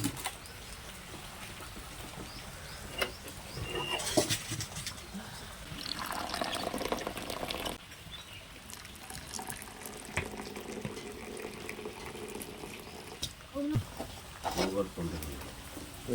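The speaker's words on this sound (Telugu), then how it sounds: "పైన చుక్కలు పడుతున్నాయి రేకులు పడ్డాయి రేకులు పగిలిపోయింది" Rainwater drips and trickles through broken roof sheets, a steady wet patter with splashy bursts, heard under people talking nearby.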